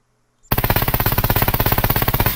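An AS Val rifle in the game Scum fires one continuous full-auto burst of roughly two dozen rapid, evenly spaced suppressed shots, loud and close, starting abruptly after a short silence.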